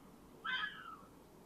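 A cat gives a single short, faint meow with a slightly falling pitch, heard from a distance against a quiet indoor background.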